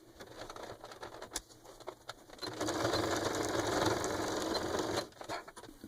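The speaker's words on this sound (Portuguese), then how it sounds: "vou passar uma costurinha aqui, costurando, então, todas as camadas" A sewing machine stitches through all the fabric layers above a zipper on a small pouch, a brief whir and clicks before a steady buzzing run of about two seconds, then slowing to a stop.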